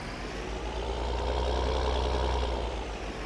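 Tractor in Farming Simulator 19 idles with a steady, low diesel rumble, constant and close, with no talking over it.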